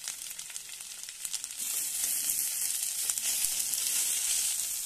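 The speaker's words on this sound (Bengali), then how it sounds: "মশলাটা দিয়ে ভালো করে আলুর সঙ্গে মিশিয়ে নিয়ে ভেজে নিচ্ছি" Potatoes and ground spices fry in a pan, a steady close sizzle rising in loudness after the first second with faint stirring scrapes underneath.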